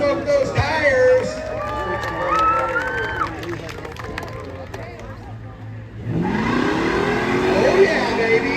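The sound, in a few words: 1969 Dodge Charger doing a tire burnout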